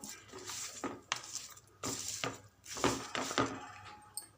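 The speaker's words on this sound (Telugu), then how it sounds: "1/2 కప్పు రాళ్ళ ఉప్పు ఇలా వేసి కలుపుతూ ఉడకబెట్టాలి." Rock salt goes into a pan of tomato pickle and is stirred, giving a run of close clinks and scrapes in uneven bursts, with brief pauses between strokes.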